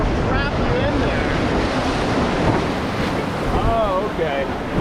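Whitewater rapids on the Salt River churn and recirculate in a constant loud rushing roar, heavy wind buffeting the microphone, with faint voices calling out over the water.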